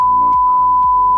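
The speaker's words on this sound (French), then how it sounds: "de toute façon je ferai bip" A single long, loud censor bleep tone holds steady alone for just over a second, with faint voice traces beneath.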